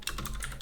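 A short burst of typing on a computer keyboard entering a command, several quick close keystrokes clicking in a fast uneven rhythm.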